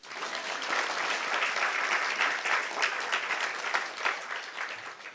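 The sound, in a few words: applause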